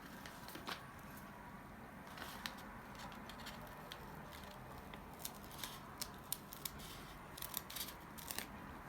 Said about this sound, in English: The bottom of the outside cone can be trimmed a little bit.